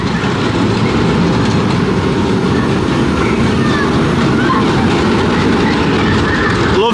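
Iron Dragon, a 1987 suspended roller coaster at Cedar Point, rumbles past with steady loud clattering wheels and a continuous roar that fills the whole stretch, no speech over it.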